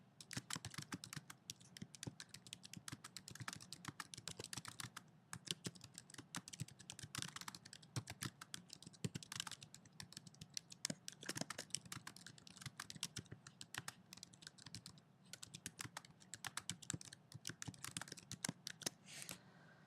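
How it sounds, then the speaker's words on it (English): Continuous typing on a computer keyboard, steady rapid key clicks going on without pause and with no voices. "I can go ahead and begin typing."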